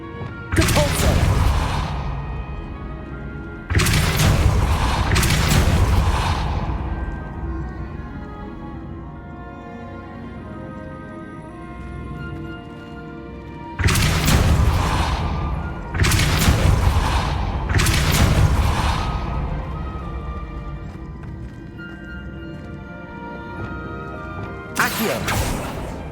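Depulso force-push spell blasts from Hogwarts Legacy, loud booming bursts in groups of two or three separated by quieter gaps, with a continuous musical or ambient bed beneath.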